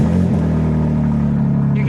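A BMW M4 Competition with an aftermarket exhaust fires up, bursting into a loud, deep, booming rumble that settles into a steady, heavy idle close by.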